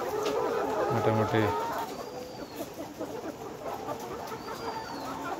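Layer hens on a poultry farm, around 144 days old and coming into egg production, cluck and call in a busy flock chorus beneath someone talking, with a few sharper bird calls rising above the steady background.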